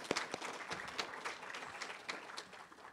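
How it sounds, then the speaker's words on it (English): At a public conversation event, an audience gives a quiet, distant round of applause, a steady patter of claps at low level with no voice over it. "So can we give them another round of applause,"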